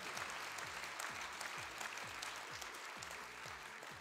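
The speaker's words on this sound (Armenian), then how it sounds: "այո, ծափահարությունները տեղին են" Audience applause at a national awards ceremony spreads into a dense, steady wash of clapping from a large crowd, even and sustained, heard at a moderate distance.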